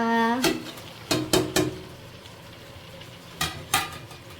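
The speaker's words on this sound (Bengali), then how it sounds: "চিকেনটা হয়ে গেছে, এটার ভেতরে এখন আমি এগুলো দিয়ে দিচ্ছি" Vegetables go into a pan of cooked chicken, with a sizzle under several sharp scraping and stirring clatters of a utensil against the pan, close by and in irregular bursts.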